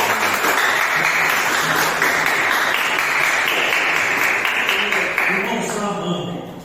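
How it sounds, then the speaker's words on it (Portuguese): A church congregation at a Friday evening service applauds, a loud sustained wash of clapping mixed with voices and sung or spoken praise, tapering slightly near the end as a voice rises above it. "Pode se assentar e aplauda o Senhor Jesus."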